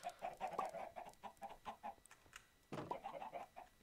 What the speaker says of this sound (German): Aber es waren zwei Hühner draußen.